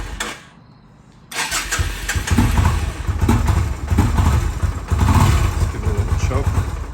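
A Yamaha Virago cruiser motorcycle, choked, cranks briefly after a quiet pause and fires up into a loud, lumpy, throbbing idle that holds steady close by.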